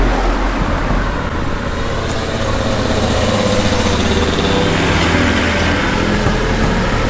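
Traffic passes along a main road heard while walking beside it, a continuous wash of engine and tyre noise with cars idling and moving, fairly loud and close, steady over the whole stretch.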